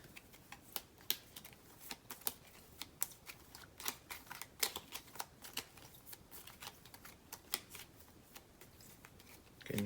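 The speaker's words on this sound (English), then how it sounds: "shuffle our deck." Marvel Champions cards shuffled by hand at a table, a quick run of crisp riffling clicks and soft flutters that continues steadily at close range, with no one talking.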